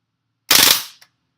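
A WE Apache MP5 gas blowback airsoft gun fires one short, loud burst of about half a second, a rapid stutter of shots with a quick echoing tail and one small click after.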